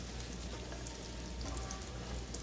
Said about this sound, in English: I'm going to use this grease that I used for the bacon just for some more flavor. And I'm going to saute the vegetables.